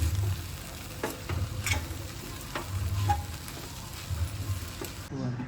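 A sabzi of okra and moong dal with grated coconut and coriander is stirred in a pan. Quiet, repeated scraping strokes sound over a soft, low sizzle.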